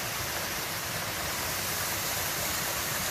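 Rushing water from a waterfall on a hiking trail in Jefferson County makes a steady, dense roar that holds unbroken and fills the space throughout.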